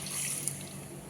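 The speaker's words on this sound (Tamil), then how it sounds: "அதனால் கொஞ்சம் கூட தண்ணி சேர்க்குறேங்க." Water poured into thin chickpea flour batter in a cup, a soft continuous trickle and splash with faint drips, close and fairly quiet.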